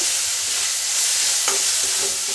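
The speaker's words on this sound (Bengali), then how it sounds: "আমি মশলাটাকে খুব ভালো করে ভেজে নেব।" Cumin, coriander and red chilli powder masala fries in oil in a pan with a steady, loud, close hiss, and a couple of faint stirring clicks near the end. No talk is heard.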